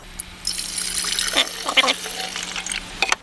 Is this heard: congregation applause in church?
no